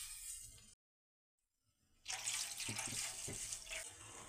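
Water is poured into a cooking pot while making maswadi, two bowls of water for one bowl of gram flour. A running flow is cut off by a brief silence, then resumes as louder, close splashing.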